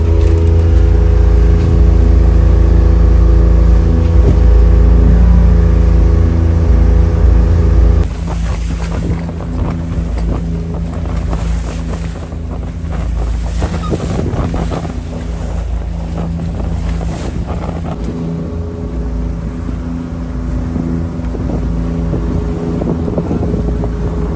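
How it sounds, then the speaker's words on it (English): A boat beats into choppy open water on a Gulf of Mexico crossing, with steady loud wind roar and rushing, slapping waves throughout, the hull's pounding heavier and more constant in the opening seconds. "I was rethinking my life choices as I watched our boat beat into the seas and the waves"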